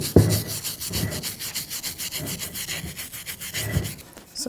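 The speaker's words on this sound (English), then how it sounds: "clean up the hub area with a wire brush, just so it has a smoother surface to glide on" A wire brush scrubs rust from a Jeep Patriot wheel hub in fast, rhythmic back-and-forth strokes, a loud, close, gritty rasp that keeps up a steady beat with a couple of sharp knocks.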